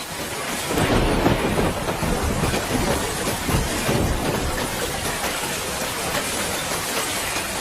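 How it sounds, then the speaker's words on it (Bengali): Heavy rain pours down steadily in a dense, roaring wash, with low rumbling underneath and no voices. "বৃষ্টি তো বেড়েই চলেছে"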